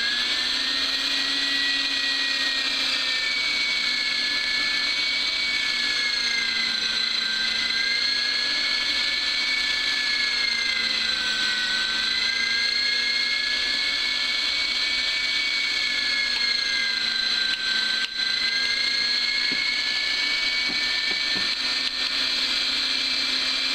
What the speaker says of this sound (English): We've got our grinder out. We've got one pork chop.